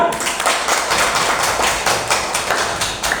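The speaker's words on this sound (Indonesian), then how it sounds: "Iya, tepuk tangan untuk Mas Tristan." Children in a classroom applaud together, a dense, steady round of clapping held at close range for a few seconds with no talk over it.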